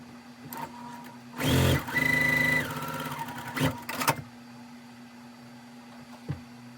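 A sewing machine sews quilt block squares along a drawn line in short loud bursts of whirring stitching, separated by quieter gaps with a steady background hum.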